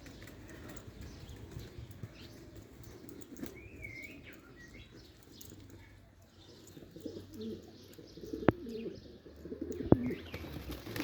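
Outdoor pigeons kept in a loft flock, with soft continuous cooing and chirps, occasional wing flaps and a couple of sharp knocks, close and steady throughout.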